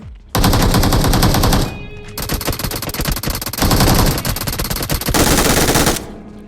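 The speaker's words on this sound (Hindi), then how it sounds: "लेकिन मैं साइड से आके इसको MG चिपका देता हूँ" Sustained automatic machine gun fire in the BGMI (PUBG Mobile) battle royale game, loud and close, in long rapid bursts with brief pauses between strings of shots.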